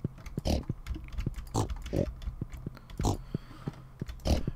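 Stardew Valley pigs oink in repeated short grunts over several seconds, mixed with faint clicks that could be keyboard taps.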